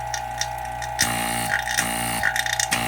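Nilight 4 CFM HVAC vacuum pump running close up with no hoses attached, giving a steady mechanical hum and whine with a few rattling bumps, heard on its own.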